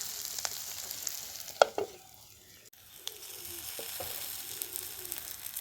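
Bitter gourd fries in a pan over low heat, making a soft, steady sizzle with a few faint clinks of stirring, quiet and close with no talking.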